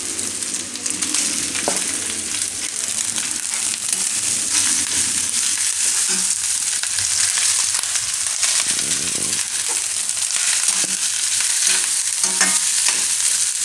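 Cooked rice stirred slowly with chili flakes in a frying pan over low heat for cheese broccoli fried rice, a continuous loud sizzle with steady scraping and tossing strokes and no voices.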